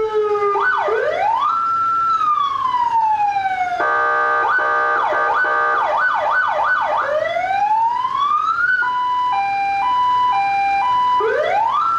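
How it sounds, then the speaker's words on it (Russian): A loud siren on an armored Land Cruiser cycles through several patterns in turn: wails, fast yelps, a rising sweep and a two-tone hi-lo, close by with no talking. "Послушайте, как я несколько секунд буду баловаться сиреной"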